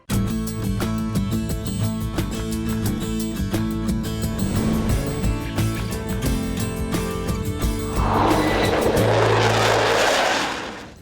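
A loud, steady engine drone from a propeller airplane at the Oshkosh AirVenture 2015 airshow, with a rising roar and rush of wind toward the end, no voices.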